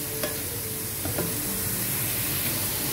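Close, steady sizzle of chicken and ginger-garlic paste frying in oil in a kadai, broken by a few sharp scrapes and clinks as a utensil stirs the pan; no one speaks.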